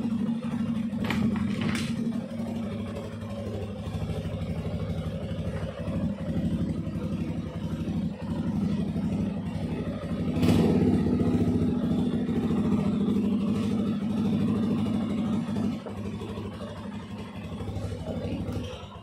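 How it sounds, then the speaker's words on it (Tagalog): A Suzuki Gixxer 155 motorcycle with a weak battery, running after a jump-starter start: a steady, close, low idle hum with light mechanical clatter and a few sharp ticks throughout. "nag-start siya nung kinunik ko yung jump starter"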